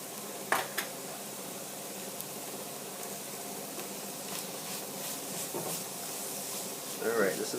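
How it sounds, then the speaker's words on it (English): Food with tomato paste sizzles and crackles steadily in a hot pan, with occasional clinks of a utensil against the cookware. "Alright, this is sizzling, cooking very well."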